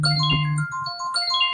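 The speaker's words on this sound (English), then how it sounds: "That's my alarm for a meeting." A short electronic ringtone of bright, repeating tones, loud and close, with a low hum at the start and no voices.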